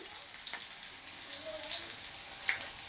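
Onions frying in a pan, a steady soft sizzle and crackle with occasional brief pops, faint and continuous throughout, no voice over it.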